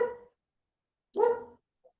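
A dog barks twice with a short gap between the barks, fairly close and clear, with silence around them and nobody talking.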